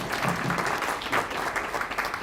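Audience at a San Francisco startup demo night applauding a presenter, a steady wash of crowd clapping at moderate distance, fairly soft, with no speech over it.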